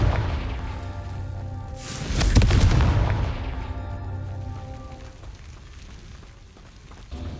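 Fiery Confringo blast spell cast in Hogwarts Legacy gameplay, a loud burst of booming impact around mid-clip over a steady rumbling game soundscape, fading to quieter ambience.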